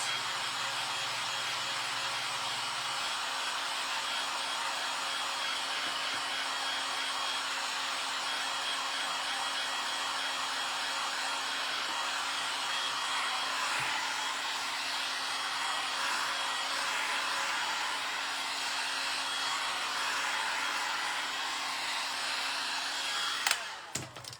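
A hair dryer runs steadily and continuously, drying paint on a patriotic flag and banner craft project, with a constant whooshing hum that stays even throughout and cuts off with a small clunk at the end; no one speaks.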